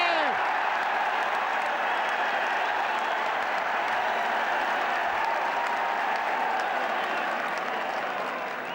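Big crowd roaring and cheering at the 1980 All-Ireland Senior Hurling Final between Galway and Limerick, a dense, steady wall of applause and shouting from a packed stadium that holds loud throughout and eases slightly at the end.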